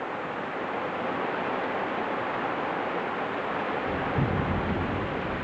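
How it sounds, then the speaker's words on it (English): Thunder rolls through a torrential flash flood storm in Sonora, California, a low rumble swelling near the end over steady heavy rain noise. "Here comes the thunder."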